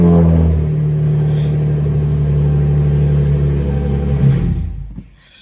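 Idling engine of a 2017 Dodge Charger SXT AWD inside a closed garage, a loud steady low rumble that cuts off near the end as it is switched off.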